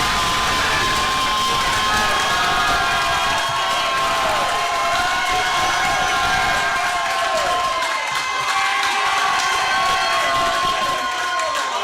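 A large election-night crowd erupts in sustained cheering, shouting and applause as Jeremy Corbyn is declared winner, a dense roar that stays loud and unbroken throughout.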